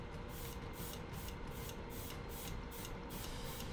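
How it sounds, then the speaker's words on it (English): An airbrush sprays a paint splatter onto a 3D printed toy, producing a steady close hiss with a rapid pulsing texture throughout, alone with no voices. "So I used the airbrush to create a splatter while spraying."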